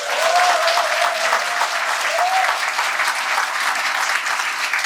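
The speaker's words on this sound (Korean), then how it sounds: "따라서 김대중 대통령께 박수" An audience at a political lecture in Korea applauds with sustained, dense clapping that holds steady and fills the room for several seconds.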